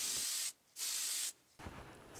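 Spray can primer going onto model rocket parts, two long hissing bursts with brief pauses between and a softer third pass starting at the end.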